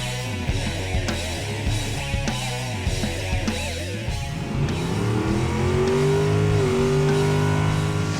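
Engine of a 1968 Six Pack Barracuda drag car revving, a rough idle breaking into a rising, sustained rev that holds loud and steady to the end.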